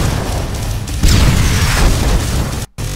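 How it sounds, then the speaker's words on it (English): A heavy cannon in the video game Terminator: Dawn of Fate hits with a loud booming blast, followed by a rumbling roar and debris noise, then a brief dropout near the end. "this is some heavy cannon here."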